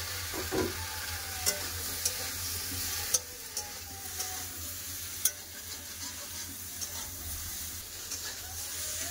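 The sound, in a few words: potatoes and okra frying in oil in a pan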